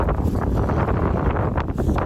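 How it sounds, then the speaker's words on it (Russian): Strong wind buffets the microphone on the Volga river while fishing, in continuous gusty rumbles, loud and roaring throughout. "Снова ветер."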